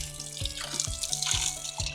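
Freshwater spring running from a mountain source, a steady close splash and trickle of flowing water with no voices.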